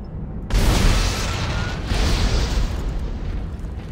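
An explosive is shot and blows up in Dead Space 2, giving a loud booming blast that hits suddenly and then rolls on as a sustained, rumbling roar through the rest of the moment.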